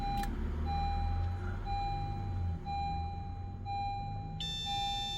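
An aftermarket blind spot sensor system fitted to a 2016-2021 Honda Civic gives a steady, faint electronic beep tone repeating over a low idling hum, with no talk.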